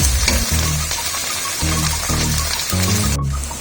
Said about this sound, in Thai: แล้วเราก็ตั้งไฟทิ้งไว้อย่างนี้สักพักจนมะเขือเทศเละนะครับ